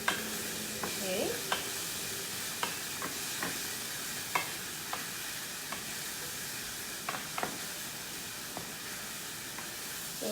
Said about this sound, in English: I'm stir frying the onions, the garlic, as well as the ginger